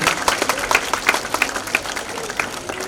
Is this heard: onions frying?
no